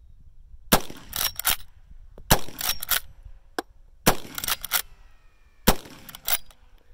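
Rifle shots from a Chiappa 1892 lever action chambered in 45 Colt, four sharp reports a little over a second apart, each trailed by the clatter of the lever being cycled, at close range with no talking.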